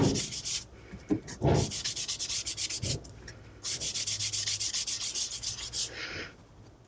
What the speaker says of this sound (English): I'm just going to go ahead and sponge the Pool Party onto this card